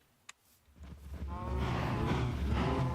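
Cows in the Minecraft video game moo in a long, loud, drawn-out low call after a brief click, with no talking.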